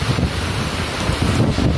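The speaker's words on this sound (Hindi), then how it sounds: "इतना स्पीड से एयर फ्लो हो रहा है, आवाज़ से आपको समझ में आ ही रही होगी।" Strong cyclone wind in Pune, Maharashtra, roaring continuously and loudly across a phone microphone, with heavy buffeting gusts throughout and no talk.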